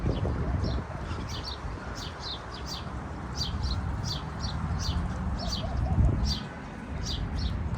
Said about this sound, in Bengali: পাখি শব্দ শোনা যাচ্ছে অনেক ভালো লাগছে পাখির শব্দ